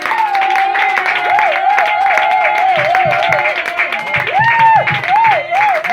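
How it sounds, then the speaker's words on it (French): A church congregation at a lively service claps and cheers, dense rhythmic clapping under sung or shouted voices whose pitch rises and falls, loud and continuous throughout. "I want your clapping must make a devil jealous."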